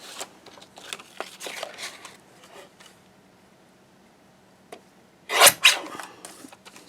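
Paper card being cut down for an Anna Griffin impression mask, with soft rasping snips and rustles early on, a quiet pause, then a couple of louder, sharper cuts near the end.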